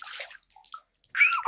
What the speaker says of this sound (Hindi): इतनी ठंड में कोई पानी डाल के जगाता है